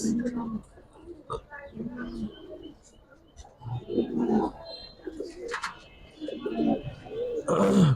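A pair of large Giribaz pigeons coo in soft repeated bursts, close by, while someone talks over them for most of the time.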